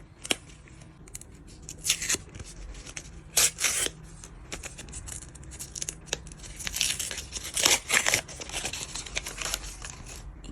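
Paper surprise packages being torn open and crinkled by hand, with repeated ripping bursts and rustling spread through the quiet, close and moderately loud, no talking.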